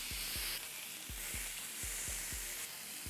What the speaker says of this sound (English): the smoke and sizzle comes out immediately